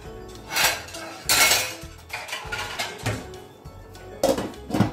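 A metal lid set over a pot of freshly cooked hot rice for a home rajma chawal lunch, heard as a few close, loud clanks and rattling clinks with quieter knocks between, and no talking.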